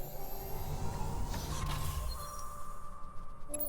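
A door creaks open in the video game Dungeon of the Endless, a slow mechanical groan with a steady creaking tone that fades out near the end.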